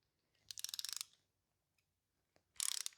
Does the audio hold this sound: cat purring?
no